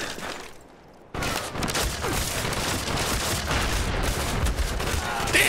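Rapid gunfire from Call of Duty: Black Ops, with pistol shots among the sustained shooting in a 1v1 match. The shooting starts abruptly after a brief quiet lull and continues as dense, loud bursts to the end.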